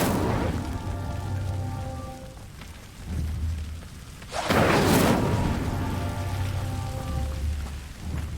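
An Incendio fire spell ignites a pyre in Hogwarts Legacy, a single loud rushing burst of flame about midway through, set against a steady low ambient game score.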